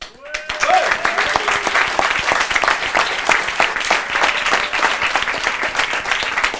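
A hall audience breaks into steady, dense applause during a French televised talent contest, many hands clapping continuously at close range, with faint voices underneath.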